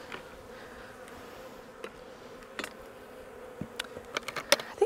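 Honey bees buzz steadily around an open hive during an inspection, a continuous close drone with single bees zipping past the microphone toward the end.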